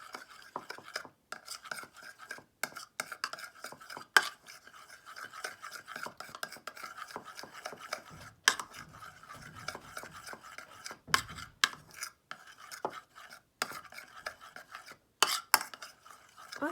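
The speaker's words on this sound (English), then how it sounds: "And I'm going to mix that in with my conditioner." Red food coloring being stirred into conditioner for homemade silly putty, heard as a steady run of soft scraping and rubbing strokes with small clicks of a utensil against a container, fairly close and with no talking.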